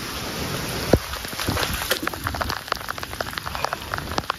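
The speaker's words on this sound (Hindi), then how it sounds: "बारिश जो चाहिए थी वो मिल गई है" Steady rain pattering onto roads and greenery in a hilly monsoon setting, a continuous dense hiss of drops with a few sharper splashes close by, no voices.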